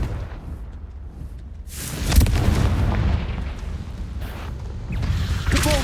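A Confringo explosion spell is cast at a spider in the Hogwarts Legacy video game, bursting into a loud blast partway through, with rumbling combat effects continuing after it.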